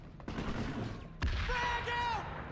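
Gunfire from the video game PlanetSide 2 crackles through a short stretch, with a sharp loud shot near the midpoint and a shouting voice over the continuing fire.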